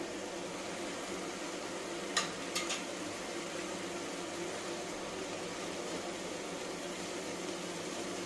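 Mini potatoes fry in a pan for dum aloo, giving a steady, even sizzle throughout with a few brief utensil clicks near the start of the stirring.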